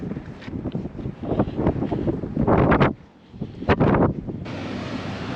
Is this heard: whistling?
no